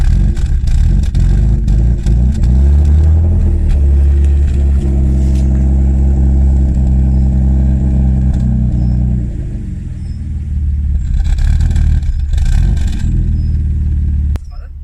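A BMW E36 with an M50B30 stroker engine runs in an unsettled, wavering idle that swells and sags, then drops off as a throttle blip pulls the revs down, all loud and close with voices talking over it.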